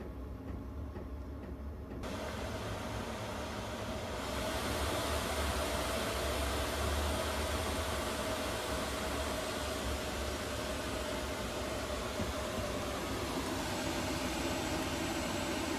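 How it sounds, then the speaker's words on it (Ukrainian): Webasto diesel heater fans spin up to higher speed, a steady broadband whoosh and hum that steps up in loudness and pitch after a few seconds and then holds, continuous and close. "трішки піднімається споживання, оскільки вентилятори розганяються до вищих обертів"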